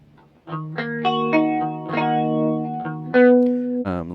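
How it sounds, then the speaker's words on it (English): Guitar notes sent through a short-delay chorus effect set to a long delay time, each note wobbling in pitch with a faint slapback echo; a slow melodic phrase of sustained, separate notes, close and clear with no talking. "you can hear the pitch start to modulate a lot more, and you can also start to hear a little bit of slapback almost"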